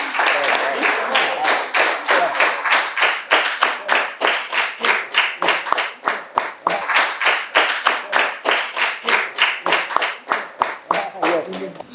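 Audience clapping for student award winners at a school project showcase: steady, dense rhythmic claps fill the whole stretch, sustained and fairly close, with faint voices mixed underneath.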